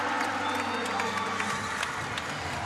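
Crowd noise from spectators filling the orange seats of the Caloocan Sports Complex during a President's Cup 2025 semifinal basketball game, a steady murmur with scattered cheers and claps after two missed free throws, with a commentator talking over it.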